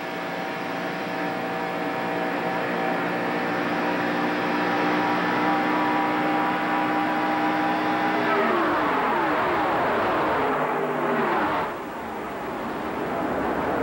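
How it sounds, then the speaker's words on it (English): A NASCAR stock car engine roars from inside the cockpit during the 1987 Winston 500 at Talladega, a loud, steady, close drone at racing speed whose pitch sweeps and shifts partway through before settling again. "We're inside Cale Yarborough's car."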